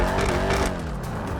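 Vapid Dominator GTX muscle car in GTA 5, modeled on a Ford Mustang, its engine roaring loudly in a brief, dense rev that drops slightly in pitch.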